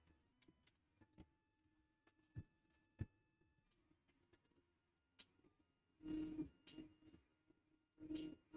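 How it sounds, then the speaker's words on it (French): A Creality CR-10 3D printer making an odd mechanical noise: soft ticks and clicks through the first half, then two louder buzzing, grinding bursts of stepper-motor whine near the end, close by, with no talking. "Elle fait un bruit bizarre, cette imprimante."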